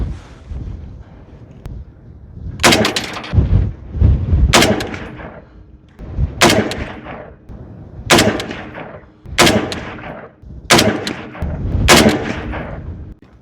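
An FN SCAR 17 rifle fires a group at 100 yards outdoors: about seven loud, sharp shots with a booming echoing tail after each, spaced one to two seconds apart, with some wind noise and no talk.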